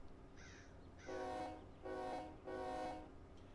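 Three loud, separate horn blasts from a diesel locomotive in the Run 8 Train Simulator game, each a rich chord lasting about half a second, preceded by fainter higher tones.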